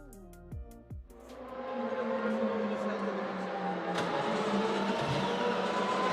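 A BMW M4 GT4 race car in a sim racing game laps the Indianapolis circuit, its engine revving up through gears after a few sharp shifts, then holding a loud, steady high-pitched drone.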